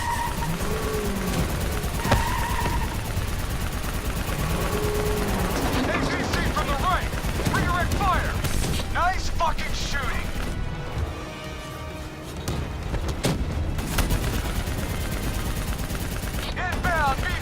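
Rapid bursts of automatic gunfire and explosions from a Black Ops 3 battle push toward a VTOL aircraft, loud and nearly continuous, with shouted dialogue, vehicle rumble and crashes mixed into the chaotic firefight.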